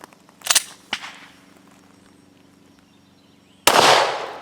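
Ammunition rounds left underwater for 72 hours fire outdoors: two sharp, close reports about half a second apart, then quiet, then a third louder blast near the end.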